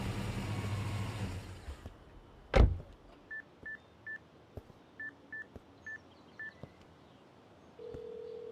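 A phone keypad beeps out a string of short dialing tones in a steady rhythm after a car engine idles and a sharp thump lands, then a single held tone follows, with no one speaking.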